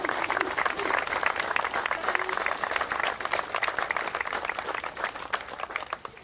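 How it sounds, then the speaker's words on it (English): A standing crowd at a Cleveland Browns groundbreaking ceremony at Shaw Stadium in East Cleveland applauds steadily, a dense and fairly loud wash of many hands that fades only slightly toward the end, with some voices mixed in. "let's stand and give them a round of applause"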